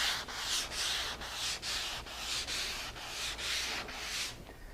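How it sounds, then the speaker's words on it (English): A 320 scuff pad rubs over a glazed finish in quick back-and-forth strokes, about ten rhythmic scratchy swipes, close and alone with no talk. "I'm just taking a 320 scuff pad here and I'm going to scuff it."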